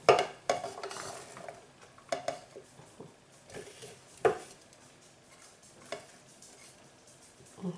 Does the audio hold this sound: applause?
no